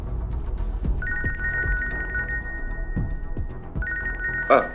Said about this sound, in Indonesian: Aku harus angkat telepon bentar.